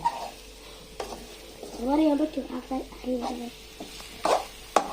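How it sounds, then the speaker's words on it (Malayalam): Mushroom masala with tomato is stirred in a pan while it fries with a soft sizzle, and utensils scrape and clink now and then. A voice speaks faintly in the background. "ഇത് ഇളക്കിയിട്ട് മൂടി വെക്കാം"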